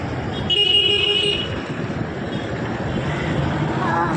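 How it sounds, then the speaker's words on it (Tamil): Busy city street with cars passing in a steady roadway rumble, while a couple of short horn toots stand out midway and near the end. "எவ்வளோ வண்டி போகுது."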